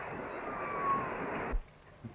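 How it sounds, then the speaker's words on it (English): A cat gives one drawn-out, fairly close meow lasting over a second, then a faint short sound follows in a quiet room. "I always could get along well with cats."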